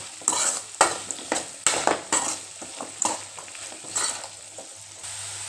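Potatoes and garlic frying in a pan for a South Indian potato fry, with steady sizzling broken by repeated bursts of stirring and scraping, close and fairly loud, with no talk.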